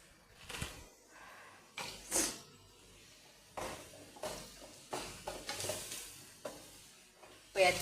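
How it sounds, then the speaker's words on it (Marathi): Onions frying in a pan for paneer masala, a soft sizzle broken by repeated scraping stirs of a utensil against the pan, close and moderately loud, with no talking. "पळयात कांदो आमचो भाजलेलो असा."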